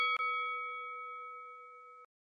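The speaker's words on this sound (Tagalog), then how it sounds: "huwag kalimutan na pindutin ang notification bell" A notification bell rings once with a bright metallic ding that hangs clearly and evenly for about two seconds before cutting off.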